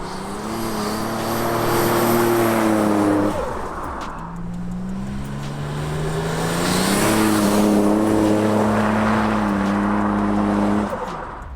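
A modified 1987 Buick Grand National accelerating hard: a loud, close engine roar climbs in pitch, dips briefly as it shifts, then pulls again, with no talking.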